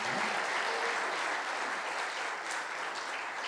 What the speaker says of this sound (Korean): 우리 그 힘찬 박수 한번 해주시면 감사합니다.